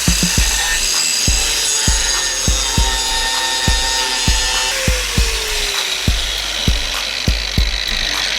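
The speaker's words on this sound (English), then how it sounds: "I would suggest loosening all these heat shield nuts prior to removing the exhaust." A hand ratchet loosens exhaust heat shield nuts on a 1999 Subaru Outback, giving a rapid series of sharp metallic clicks in a regular rhythm, close and loud, repeating steadily with a brief pause near the middle.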